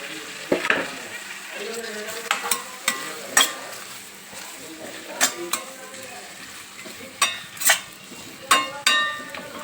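Three chopped tomatoes tipped into a frying pan with half-cooked vegetables for cucumber pachadi, a gentle sizzle punctuated by repeated sharp metallic clinks and scrapes of a spoon against the pan.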